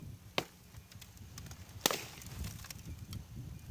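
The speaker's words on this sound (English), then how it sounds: "5 swings were taken at the glass with no penetration." Heavy swings striking a quarter-inch-thick pane of glass treated with 15 mil security film, giving two sharp, loud impacts followed by fainter knocks and a low rumbling background, with no shattering and no voices.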